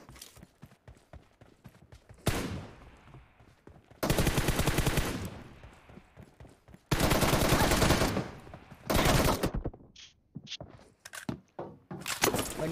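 Gunfire in the mobile battle-royale game Battlegrounds Mobile India during a one-on-one team deathmatch, with several loud sustained bursts of automatic fire between sharp single shots and clicks.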